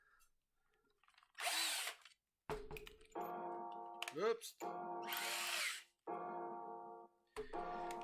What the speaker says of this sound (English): So we're going to drill that through there using a drill.